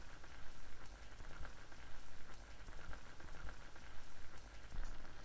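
Char siu sauce bubbling and reducing in a pan while the meat simmers, a steady dense crackle and fizz of small bursting bubbles at close range, continuous and even throughout with no talk.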